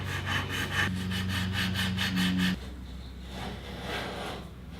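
Hand-rounding the edges of wooden finger joints on a Greene and Greene style chime cover, a steady rhythmic rasping stroke repeated close up for a few seconds, then stopping into quiet room tone.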